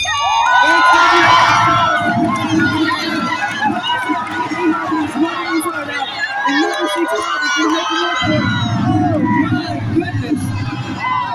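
A crowd at a fair cheers through a pig race, a loud, continuous wash of voices, shouts and whoops with a brief dip near the end before the noise surges back.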